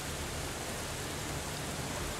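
Steady heavy rain from the video game Steins;Gate 0, a dense, even wash of noise with no voices.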